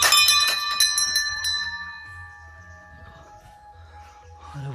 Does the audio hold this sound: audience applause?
no